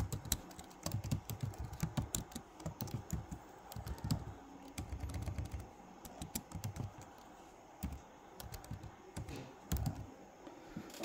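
Continuous typing on a computer keyboard, with rapid, irregular clicks and clacks that come close and clear for about eleven seconds, pausing only briefly.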